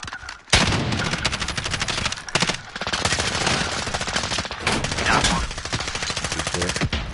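Rapid automatic gunfire from a video game shootout rattles loud and close almost without pause, dense bursts overlapping each other from start to end.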